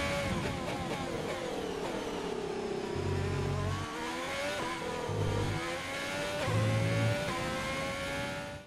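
F1 2020 race cars rev and shift in the game, engine notes sliding up and down continuously with a few low thumps, steady and moderately loud with no talk.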